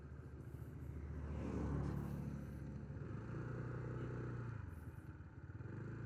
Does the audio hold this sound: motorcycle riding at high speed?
yes